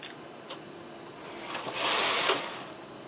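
A single bed knitting machine's carriage sweeps across the needles, a rising and falling mechanical whir and clatter that peaks mid-pass, with a few faint ticks before it and no talking.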